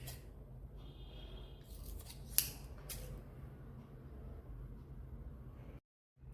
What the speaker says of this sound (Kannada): ಈಗ ತಲೆಯನ್ನು ಕೂಡ ಹಾಗೆ ಕಟ್ ಮಾಡುವ, ಒಂದು 3 ಪೀಸ್.